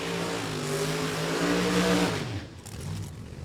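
Loud drag racing car blasting off down the strip at an NHRA Lucas Oil Drag Racing Series event at Cecil County, the engine roaring and harmonics sweeping upward over about two seconds before fading off into the distance.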